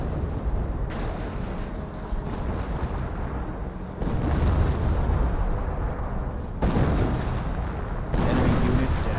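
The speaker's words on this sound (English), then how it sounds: "Artillery is trying to rain on in." Artillery shells pound a Company of Heroes 1 battlefield in a steady, rumbling barrage, with heavy booms landing roughly every few seconds over continuous combat noise and no talk.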